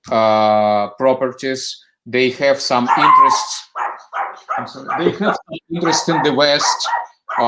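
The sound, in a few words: dog barking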